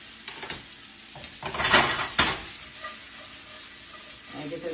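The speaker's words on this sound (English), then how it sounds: "get those peppers and onions nice and caramelized" Peppers and onions sizzle in a pan for fajitas. A steady crackle is broken by two louder hissing bursts where the vegetables are stirred and tossed, with the frying settling back to a softer sizzle.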